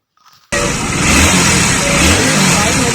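After a brief quiet whir of the electric starter, a fuel-injected BS6 Hero Splendor motorcycle engine abruptly catches and settles into a loud, steady running rumble close by.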